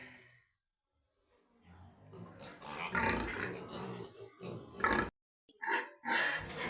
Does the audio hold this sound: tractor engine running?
no